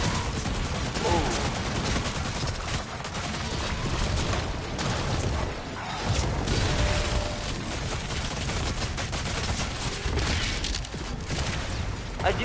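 Rapid sustained gunfire from a minigun-style weapon in the game Doom: The Dark Ages on PS5, a dense continuous roar of shots running loud throughout amid other combat noise.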